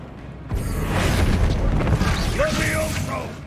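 An Incendio fire spell cast in Hogwarts Legacy: a sudden booming burst followed by a sustained roaring, crackling rush of flame lasting a few seconds, with a whooshing sweep near the end.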